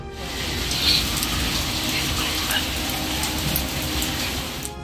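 Heavy summer rain pours down in a dense, steady hiss, loud and continuous, with a low rumble underneath and no distinct thunderclap.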